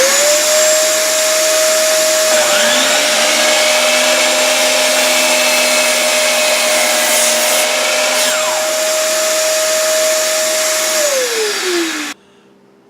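A Stanley 4-gallon, 4-horsepower shop vacuum whines up to speed and runs at a steady, loud drone for several seconds, then spins down and cuts off near the end.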